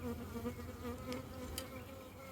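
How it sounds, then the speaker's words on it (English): Honey bees buzz loudly and steadily around an open hive during an inspection, a close, continuous droning hum with no voices. "if you remain calm, they're just buzzing you. They're not going to sting you, they just buzz you."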